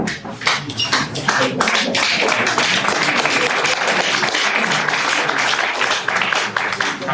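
An audience at an election hustings in Porthcawl claps, with a dense burst of many hands that is loud and steady for several seconds before thinning slightly at the end.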